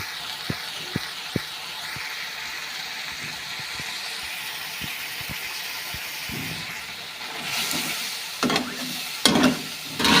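Ginger, garlic and onion paste frying gently in a pan, a soft steady sizzle with a few sharp taps of a spoon early on, then louder stirring and scraping near the end.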